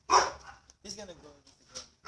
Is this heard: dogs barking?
yes